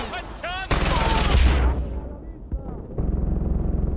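Gunfire in the video game Far Cry 4 sounds as a loud, sustained burst of rapid shots that then fades, with someone shouting before the burst and game noise continuing afterward.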